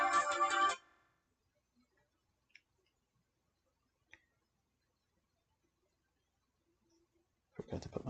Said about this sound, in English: Forgot to put my phone on Do Not Disturb.